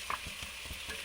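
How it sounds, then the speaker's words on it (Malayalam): Banana pieces with coconut sautéed in ghee, a soft, quiet sizzle with light scraping stirs from a spoon moving through the pan. "ഇനി നമുക്കിതിനെ ഒന്ന് നല്ലോണം ഈ നെയ്യിലൊന്ന് വഴറ്റിയെടുക്കാം"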